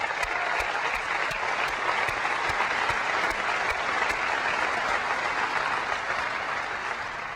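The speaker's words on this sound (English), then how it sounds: "a round of applause for the GeForce 3" Audience applause at a 2001 Macworld Tokyo keynote, a dense, steady clapping from a large crowd filling the hall throughout, with no talk over it.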